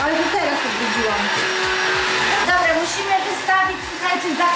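A vacuum cleaner runs steadily during cleaning of a new flat, a loud continuous motor whine with shifting tone as the nozzle moves, while someone talks over it throughout.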